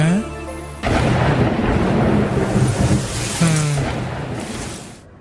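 Rain pours steadily with rolling thunder, a loud broadband downpour that starts abruptly and swells with two deep rumbles, then cuts out near the end.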